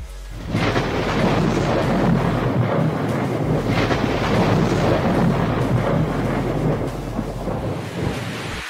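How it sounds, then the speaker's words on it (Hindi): Thunder rumbles low and continuously through heavy rain during a night storm, loud and close, with a dense roar of rain and wind buffeting the microphone for several seconds and no speech. "अभी बादल गरज रही है"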